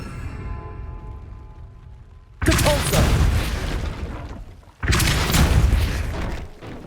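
Two forceful blasting impacts from the Depulso spell in Hogwarts Legacy, each a sudden loud burst followed by a rushing, crumbling decay, separated by a couple of seconds of quieter background.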